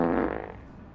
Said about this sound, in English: Only when you silence the mind can you hear the true fart inside.